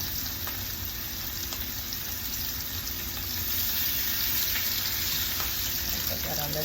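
Chicken searing in hot oil in a pan, a steady close sizzle and crackle running the whole time without a break.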